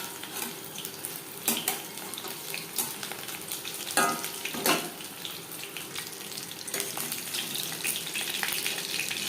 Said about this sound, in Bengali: হাই ফ্লেমে তেল গরম করে নেওয়ার পর পকোড়া ভাজবো মিডিয়াম ফ্লেমে।